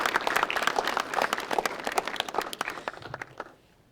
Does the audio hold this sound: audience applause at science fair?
yes